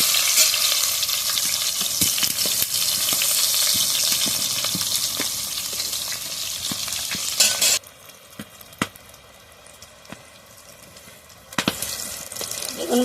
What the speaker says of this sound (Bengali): বেগুনগুলো এইভাবে সব লাল লাল করে ভেজে নেবো